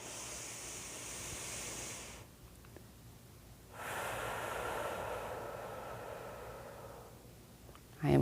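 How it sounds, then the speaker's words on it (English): A slow, deep inhale during a guided calming breathing exercise, drawn in as a long airy rush, a pause, then a second long breath, close and fairly soft, ending with a brief louder bump. "Breathe in and breathe deep."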